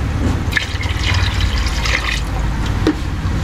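Broth or water is poured into a cooking pot, a steady loud splashing and trickling stream running without pause, with a few small drips and clinks near the end.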